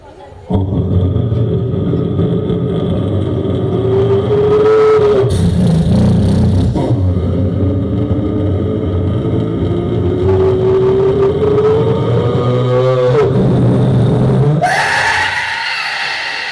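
A voice imitates a motorcycle at a religious evening event in India, a loud, continuous revving drone with rising and falling pitch that builds steadily, then sputters and cuts off as the bike stops.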